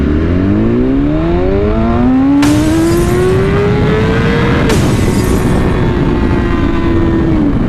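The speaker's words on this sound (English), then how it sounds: "That was basically just running first gear out the limiter" A BMW S1000RR sport motorcycle accelerates hard in first gear, its loud, close engine howl climbing steadily in pitch before holding flat and buzzing at the rev limiter with sharp repeated cut-outs.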